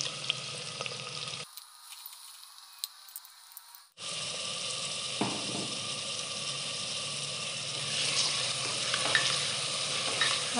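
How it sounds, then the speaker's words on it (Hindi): Onions fry in a pan with a steady close sizzle, a spoon scraping and clinking as they are stirred, interrupted by a short near-silent gap before the frying resumes. "अब हम इसको तब तक भूनेंगे जब तक ये एकदम गोल्डन ना हो जाए।"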